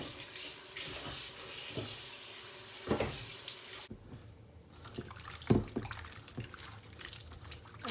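Tap water runs into a kitchen sink during preparation of bitter gourd (ampalaya), a steady broadband rush with a brief break midway and a few splashes and clunks.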